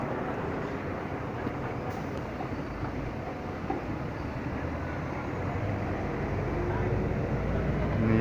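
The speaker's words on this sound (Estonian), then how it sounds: "See on mingi tramm, mulle tundub." A city tram rolls past, a steady broadband rumble that builds slightly toward the end, with traffic noise around it.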